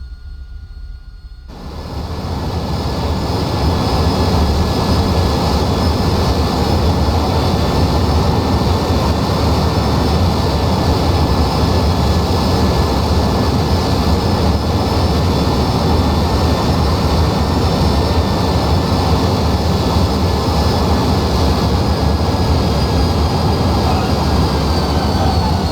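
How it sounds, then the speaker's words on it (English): AV-8B Harrier II jet engine in a flight simulator game, idling on a carrier apron before a vertical takeoff: a loud, steady roar with a faint whine that swells in during the first seconds and then holds constant, with no talking. "We'll carry out our vertical takeoff from the apron itself."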